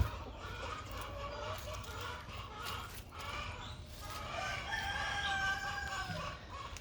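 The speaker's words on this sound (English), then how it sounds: "Chickens are talkative this morning." Backyard chickens clucking on a spring morning while a rooster crows in repeated drawn-out calls, fairly faint and distant in open outdoor air.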